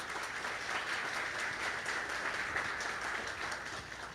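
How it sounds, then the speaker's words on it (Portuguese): An audience at a testimonial talk applauds, with dense, sustained clapping from many hands that holds at an even level throughout. "Uma salva de palmas aí para Sabrina."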